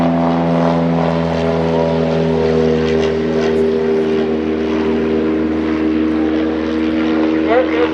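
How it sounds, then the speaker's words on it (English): A 1934 Bücker Jungmann biplane passes low over trees, its propeller engine droning steadily and loudly with a strong, even tone throughout, close overhead at an outdoor aerodrome. "Here comes Janie Daly right over the trees in the 1934 Booker Youngman."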